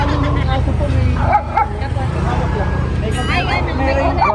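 A dog barks in short bursts amid lively crowd chatter and background noise, with people talking throughout.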